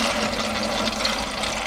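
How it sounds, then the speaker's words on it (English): Water gushing steadily into a pressure cooker, filled two to three inches deep to sterilize mushroom liquid culture, a loud continuous rushing pour with no talk. "We'll have to pour about 2 or 3 inches of water in here."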